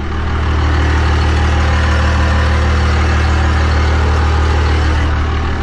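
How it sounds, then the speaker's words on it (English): A 12-valve Cummins turbo diesel engine with a 4-inch turbo-back exhaust and no mufflers idles steadily and loudly close by, a constant low rumble with a rough, throbbing texture and no pauses. "how I get my 12-valve Cummins turbo diesel to roll coal"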